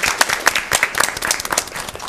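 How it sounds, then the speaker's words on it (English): Audience at a school board meeting clapping for students, a brief burst of fairly close, uneven hand claps from a modest crowd. "Let's give these students a round of applause for their hard work."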